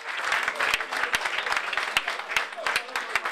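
Applause breaks out at a billiards trophy ceremony in Ariano Irpino, dense sharp claps from a nearby crowd filling the whole stretch, with a voice faintly underneath.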